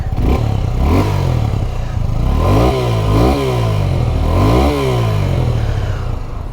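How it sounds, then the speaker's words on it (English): The exhaust of a Suzuki V-Strom SX 250 adventure motorcycle is blipped several times from idle, each rev rising and falling sharply over a loud, close, rumbling idle. "let's listen to the exhaust once, because no adventure bike is reviewed or tested without the exhaust"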